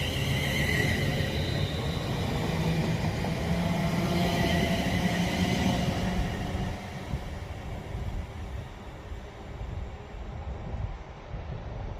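Passenger train departing from platform 3 at Birmingham International station on a four-carriage service, a broad steady rumble with wind noise that drops off partway through as it pulls away.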